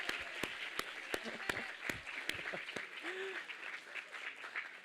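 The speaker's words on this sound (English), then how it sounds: "let's give her one round of applause" Audience applause at a startup competition finals event for a birthday shout-out, with sharp individual claps early on merging into a steady, moderate round of clapping across a hall.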